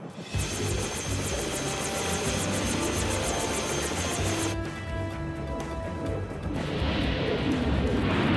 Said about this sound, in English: Engine noise. Funky rotor.